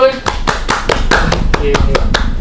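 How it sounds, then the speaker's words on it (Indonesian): A small podcast audience claps in a quick, even burst of about ten sharp hand claps, close and loud, with a voice briefly audible at the start. "Tepuk tangannya boleh?"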